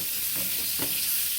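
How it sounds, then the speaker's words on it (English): Thin-cut top sirloin fajita strips, seasoned with chili powder and meat tenderizer, sizzle and hiss steadily in a pan inside a hot tent while camping in the rain, with a couple of soft stirring scrapes. "Ooh, listen to that sizzle."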